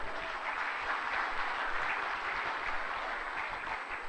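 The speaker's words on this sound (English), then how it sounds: "A round of applause to all of you." An audience claps in a steady, sustained round of applause at a youth council gathering, a dense even wash of clapping heard a bit distantly with no speech over it.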